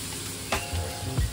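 Salted fish frying in a pan gives a brief close sizzle with a couple of soft stir or scrape bumps, no talking.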